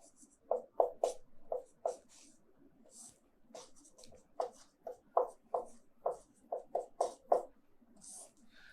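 Chalk or marker strokes on a board during a Hindi-medium Class 12 wave optics lecture, a steady run of short scratchy taps and squeaks in uneven bursts, close and fairly quiet, with no talking.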